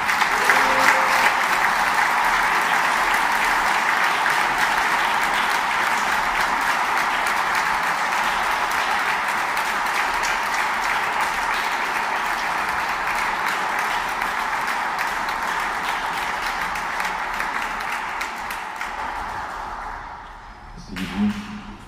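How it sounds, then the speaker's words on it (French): A church congregation applauds during a Christmas midnight Mass, a long sustained wash of clapping that stays full and even before thinning out and fading near the end. "nous applaudissons Jésus qui est en nous."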